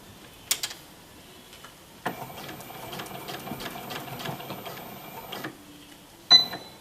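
A sewing machine stitches across a square of fabric in one steady, rapid mechanical run lasting a few seconds, close and clear, with a couple of clicks before and after.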